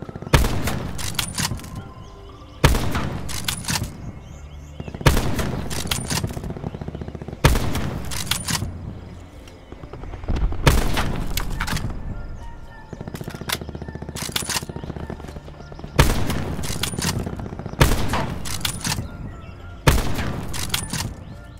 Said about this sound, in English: the first one I'm going to show you is the Paladin